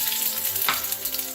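Sweet onion, garlic and red curry paste fry in a pan with a steady, close sizzle and a brief stirring swell midway through the short stretch, no voices.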